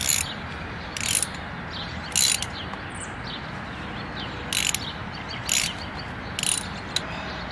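Ratchet socket wrench turning a spark plug, giving several short, sharp clicking bursts at uneven intervals over a steady background hiss.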